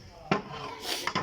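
Pots and utensils clatter during outdoor cooking at a picnic spot in Dinajpur: two or three sharp metallic knocks close by over a low background hum.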